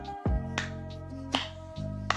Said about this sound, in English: everyone starts hearing a menacing clap.